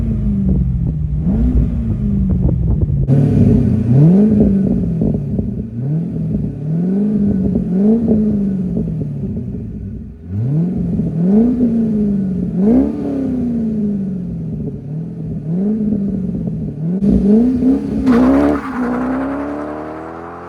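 Corvette LS V8 with a cheap aftermarket exhaust revs up and drops back repeatedly through a series of downshifts, a loud, close, rumbling engine note with rising and falling pitch sweeps, ending in a sharper high whine.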